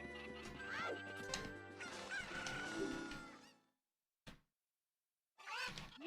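Fowl in a video game randomizer let out several loud honking, clucking calls in a noisy burst, followed by near silence, a short blip, then another squawk at the end.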